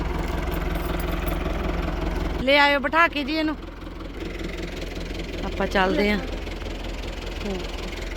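A tractor engine idles nearby with a steady low throb, while people talk over it in two short bursts.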